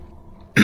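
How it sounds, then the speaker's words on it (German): A single short, harsh cough bursts out suddenly at the very end after near silence, close and loud. "Ich muss ja öfters mal husten."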